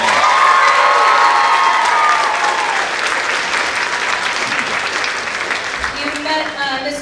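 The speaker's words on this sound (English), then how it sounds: "please give him a round of applause." An audience at a school choral concert applauds steadily with some cheering. The clapping is loud at first, then slowly thins out, and a voice comes in near the end.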